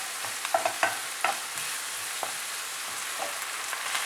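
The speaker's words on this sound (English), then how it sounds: "So the tomatoes are cooked and I mashed it." Cooked tomatoes being mashed and stirred in a pan for spicy egg masala, with quiet scraping and soft taps of a utensil over a gentle sizzling background, close and fairly faint.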